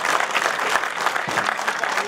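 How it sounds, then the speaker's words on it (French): Crowd applause at an outdoor hill climb podium ceremony for the 2022 French mountain championship at Turckheim-Trois-Epis, steady clapping throughout with a voice faintly under it. "Je vous demande d'applaudir Morane 4 Makoviak, la meilleure féminine de"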